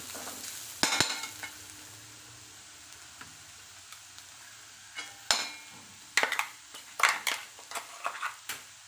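Onions sautéing in a pan for cashew chicken curry, a low constant sizzle punctuated by spatula scrapes and clinks that come sparsely at first, then in a quicker cluster near the end, close by.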